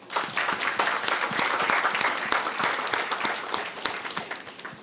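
A crowd applauds steadily, dense clapping that swells and then gradually tapers off near the end.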